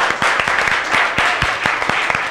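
Audience applause for a spelling bee contestant at a semifinal, a dense steady patter of many hands clapping, fairly close and loud for the whole stretch, with no talk over it.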